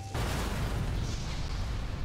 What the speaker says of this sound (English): You do your thing, explosion